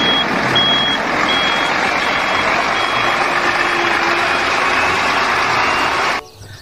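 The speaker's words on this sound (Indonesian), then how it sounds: "Wow, ada truk molen." A concrete mixer truck reverses with loud, evenly spaced high beeps over its engine drone, close by, until the sound cuts off abruptly near the end.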